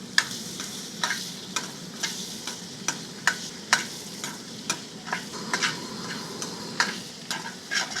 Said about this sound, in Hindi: इन सभी को अच्छे से फ्राई करना है।